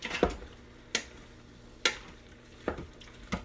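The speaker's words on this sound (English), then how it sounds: "Continue searing on saute for a little bit." Pork searing on a saute setting with onions, tomatoes and garlic, a low steady sizzle broken by five sharp utensil clicks against the pot at irregular intervals, close and fairly quiet.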